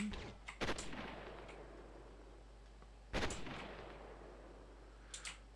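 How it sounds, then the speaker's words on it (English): Sniper rifle fire in the Fire Warrior shooter game: three sharp shots spaced a few seconds apart, each booming and fading into an echoing tail over a low steady hum, with no talk. "I reckon that's all snipers."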